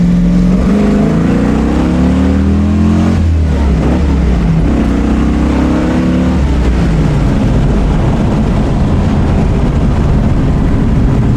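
A 1967 Shelby GT500 V8 roars hard and close, revving up through first gear, dropping briefly at a shift near three seconds, then pulling loud and sustained through second with deep rising engine tones.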